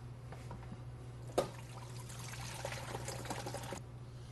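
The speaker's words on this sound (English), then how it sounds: "Shut it off and drain it. Okay, we're going to drain this out." Sanitizer drains out of a SaniServ WB 700 frozen beverage machine, a faint steady pouring trickle with a small clunk partway through, over a low constant hum from the machine.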